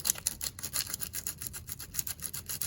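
Short, rapid back-and-forth rasping as burrs are filed off the hardened steel threads of a bicycle axle, an even scratchy rhythm close by and moderately quiet, with no voices.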